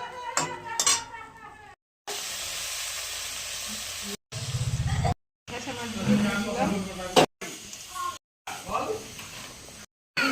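Spices for a fish curry sizzle and hiss in a pan, with pan clatter and stirring, broken up by short gaps while someone talks over the cooking.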